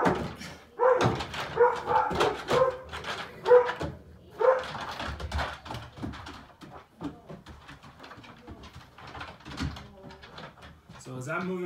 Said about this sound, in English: my dogs are going crazy, probably gonna ruin the video